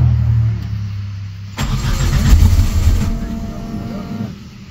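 A Suzuki Samurai fitted with a Holley Sniper EFI conversion idles roughly, then the starter cranks for a couple of seconds with a loud, rhythmic churn before the engine settles back to a low rumble; a voice talks over it.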